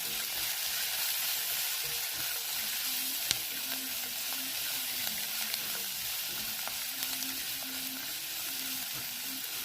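Onions frying in a pan with salt and turmeric make a steady close sizzle and hiss throughout, with occasional stirring clicks and scrapes and no talking.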